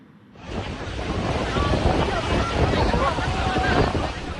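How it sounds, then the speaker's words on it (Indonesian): Strong wind sweeps through Kamolan village in Blora, Central Java, on a Tuesday afternoon, rising quickly from near silence into a loud, sustained roar with rough gusty buffeting against the microphone. "Inilah detik-detik angin kencang menerjang Desa Kamolan Blora Selasa siang"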